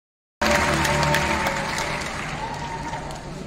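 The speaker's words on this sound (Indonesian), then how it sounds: "Tepuk tangan sekali." A crowd at a political rally applauds after a moment of silence, a burst of loud clapping and cheering that gradually eases while continuing.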